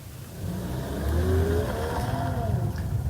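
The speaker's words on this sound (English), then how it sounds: "it sounds pretty good on startup. The four exhaust pipes deliver a purposeful bark which settles down into a potent hum." A Mercedes-AMG E53 saloon's mild-hybrid inline six-cylinder engine fires up through four exhaust pipes with a rising bark that settles into a steady, deep hum, heard close and fairly loud.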